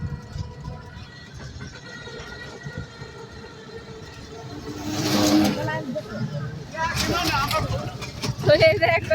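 A rickshaw rolls along a village road near the Padma river, with a steady low rumble of travel and road noise throughout and louder rattles and surges toward the end, while people talk over it.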